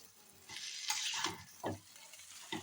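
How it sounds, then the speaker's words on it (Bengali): Gobindobhog rice stirred and fried with spices in a pan makes soft scraping and sizzling sounds in a few brief bursts, fairly quiet and alone. "এবার আমি ভালো করে মশলার সঙ্গে এই যে গোবিন্দভোগ চালটা ভালো করে আমি এটা ভাজা ভাজা করে নেব"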